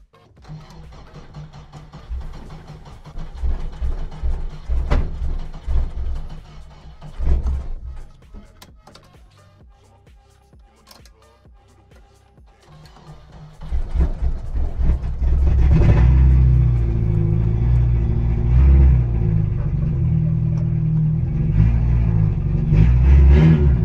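A Subaru Impreza being restored, running on a borrowed battery, cranks and catches in uneven bursts, falls quiet, then starts and settles into a loud, sustained rumble.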